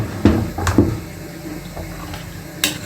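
Water splashes and trickles in short bursts, a few brief pours into a cooking pot of chicken and sauce close by, with kitchen clatter in between.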